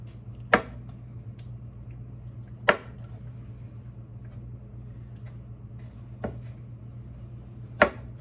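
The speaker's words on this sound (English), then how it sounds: "I'm just going to take like 4 or 5 Kalamata olives, chop those up" Four sharp knife chops on a cutting board as Kalamata olives are cut up, spaced irregularly over a low steady hum, close and fairly quiet.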